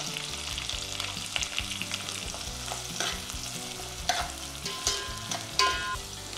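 Onion, salted to soften it, is sautéed in a pan ahead of garlic for a Maharashtrian dal methi: a steady close sizzle broken by repeated spatula stirs and scrapes, with no talk.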